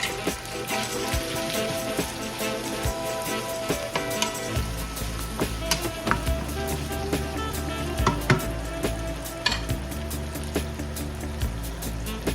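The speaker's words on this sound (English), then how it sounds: "Add the sausage to the pan, and sauté for a minute or two" Sausage sautés in a pan with butter, thyme and chili flakes, giving a busy, crackling sizzle with frequent sharp pops and spatters, plus intermittent scraping and stirring clatter nearby.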